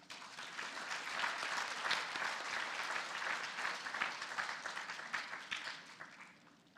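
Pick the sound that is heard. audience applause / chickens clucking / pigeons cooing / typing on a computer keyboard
audience applause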